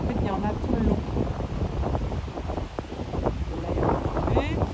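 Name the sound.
wind blowing on a hilltop by ramparts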